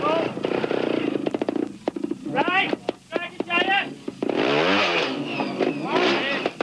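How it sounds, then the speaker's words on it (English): A Beta factory trials motorcycle at a 1999 world championship trial on Réunion Island, its engine revving in sharp bursts and rising blips, loud and close, mixed with commentary talk. "The power of that Beta factory engine just helping him when he needed it."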